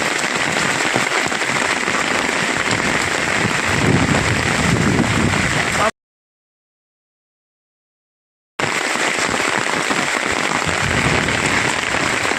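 Heavy rain pours steadily, a dense close hiss broken by a few seconds of complete silence before resuming just as strongly.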